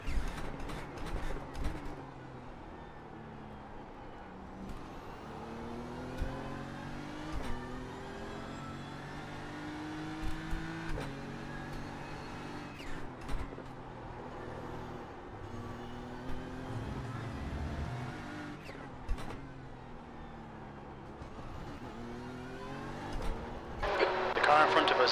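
A GT3 race car engine at VIR in a racing video game revs and shifts through rising and falling pitch sweeps, steady and moderately loud, with someone talking over it.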